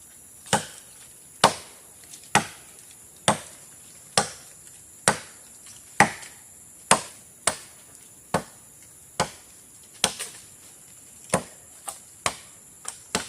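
Agarwood tree trunks being chopped, sharp solid blows ringing out one at a time in a steady, unhurried rhythm, about sixteen strikes, close and clear over a constant high insect drone, with no talking.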